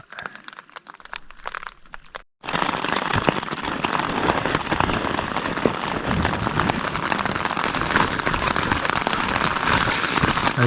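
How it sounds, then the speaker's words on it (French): Light autumn rain falls outdoors, soft and scattered for about two seconds, then a dense, steady patter of raindrops hitting a surface carries on loudly to the end. "Soyez prêts à cette petite pluie-là."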